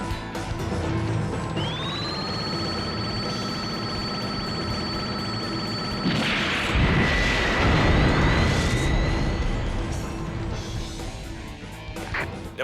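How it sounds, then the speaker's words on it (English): The colony laser fires in Dynasty Warriors Gundam: a rising high whine charges and holds steady, then breaks into a roaring blast with rumbling turbulence and a lingering tone, loud throughout. "fire the colony laser"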